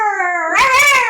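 A child imitates a dog with a single drawn-out howl-like cry, voiced close and alone, the pitch wavering then rising brightly toward the end.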